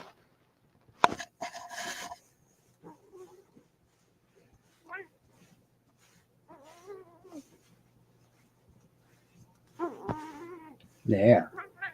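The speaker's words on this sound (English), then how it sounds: "I have a weird cat." A cat gives several short, scattered meows amid quiet moments, with a louder cry at the end and a person talking nearby.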